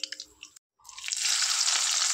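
Chopped onion and garlic drop into hot oil left from frying fish, with a short gap, then a loud, steady sizzle that builds and holds close for the rest of the clip.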